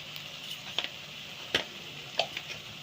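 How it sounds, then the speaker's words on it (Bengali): Chicken with cumin, coriander and chili powder and green chilies fries for Bengali doi chicken, giving a soft steady sizzle broken by a few sharp clicks from stirring. "আবারও সবগুলো ভালো করে ভেজে নেব।"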